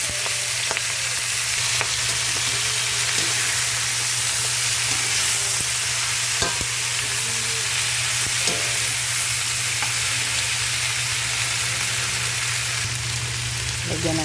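Shrimp frying in a pan, seasoned with pepper, giving a steady broad sizzle that stays constant and fairly loud, with occasional clinks of stirring and no talk.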